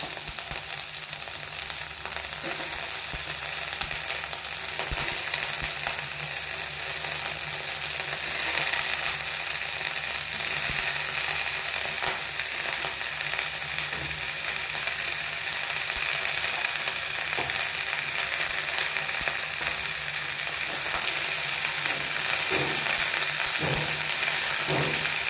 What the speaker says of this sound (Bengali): আমি একটু করে অলিভ অয়েল দিচ্ছি, তারপর আমি দিয়ে দিচ্ছি ফুলকপি